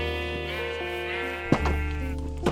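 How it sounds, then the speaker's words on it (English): Sheep in a farm building in a video game, bleating in long, drawn-out harmonic calls, a sustained one followed by shorter bleats, close and clear with no talk over them. "Special sheep. Give me all your wool."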